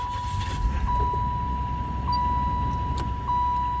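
A 1995 Buick Regal with the 3800 engine idling just after starting, a steady low rumble with a faint constant whine, some light clicks and knocks, no voices.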